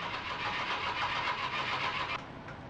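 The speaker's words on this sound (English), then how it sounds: "his dad stalls out a car while test driving it for a family" A car engine from the film Breaking Away, stalling during a test drive, rumbles steadily and fairly loudly before dropping to a lower, quieter drone near the end, with no talking.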